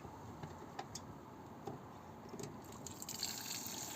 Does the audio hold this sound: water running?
yes